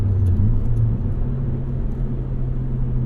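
A 1998 Eagle Talon TSI's engine hums in a steady, loud low rumble from inside the car while driving, with no one speaking.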